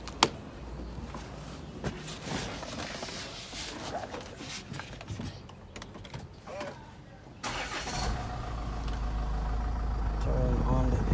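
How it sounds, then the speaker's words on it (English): A 2012–2015 Range Rover Evoque with a new receiver drier has its engine started amid workshop clatter, then settles into a steady, close idle with the air conditioning switched on. "So I'm gonna start the engine now and turn on the AC."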